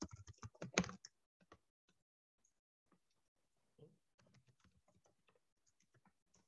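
Quick bursts of typing on a computer keyboard while entering an email address, a dense flurry at first and then sparse, faint key taps separated by pauses.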